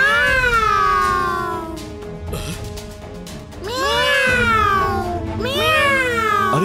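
A cartoon cat magician meows loudly in long, wavering, sliding cries, three drawn-out yowls with short pauses between them, likely voiced by a performer.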